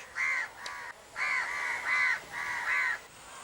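Black crows cawing over farm fields, a series of about five harsh, drawn-out caws in an uneven rhythm, fairly clear against a quiet background, with no voices.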